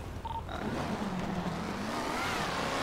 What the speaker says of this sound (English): We pulling up in the black Urus.